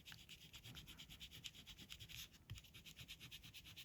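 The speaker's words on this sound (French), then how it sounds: "Alors on va gommer." An eraser rubs back and forth on a paper card in quick, even strokes, close and quiet, a rhythmic scratchy friction with no voices.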